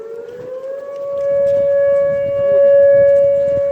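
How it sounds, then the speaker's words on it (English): A civil defense siren in Duluth, Minnesota sounds a loud, steady tone, rising slightly in volume as it carries across the city. "It could be a siren that they play every day."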